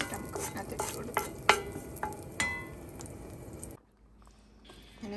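Fenugreek seeds and curry leaves fry in a pan for a Kerala pomfret fish curry with dry coconut, giving a close, steady sizzle with stirring scrapes and clicks, then dropping to near silence near the end.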